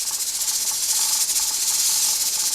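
Pressure canner processing apple juice, a steady, loud hiss of escaping steam with a fine continuous rattle of the jiggling weight, close by and with no other sound.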